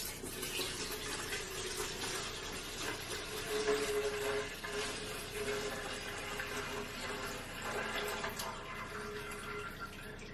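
Melted candle wax pours from a pouring pitcher in a steady liquid stream, a continuous splashing trickle at close range that lasts several seconds without talk.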